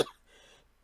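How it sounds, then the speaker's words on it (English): A single sharp cough bursts out close up, followed by a brief breathy throat rasp that fades quickly into quiet, from someone sitting and painting a watercolour. "Or I'll just keep coughing."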